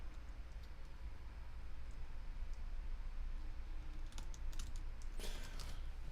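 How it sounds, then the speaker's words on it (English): Typing on a computer keyboard, a steady patter of soft clicks running throughout under a constant background hiss, with a denser burst of keystrokes toward the end and no speech. "That's exactly what's happening as I type this comment."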